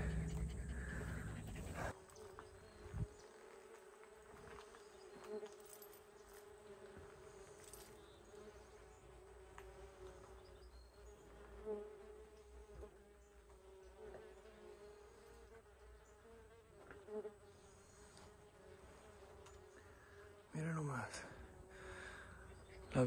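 Bees hum steadily around old Apache stone ruins outdoors, a continuous close buzzing drone that carries through the whole stretch, with brief bursts of human voices breaking in near the start and end.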